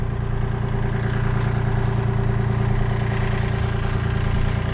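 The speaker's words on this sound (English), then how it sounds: "First off, tractor time." A tractor engine idles steadily nearby with a low, even rumble and light mechanical clatter, running continuously with no talk over it.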